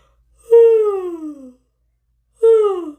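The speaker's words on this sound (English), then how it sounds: "you're going to give me your best, most convincing yawn" Two drawn-out vocal yawns during a vocal warmup lesson, the first longer and sliding downward in pitch, a short silence, then a second similar yawn.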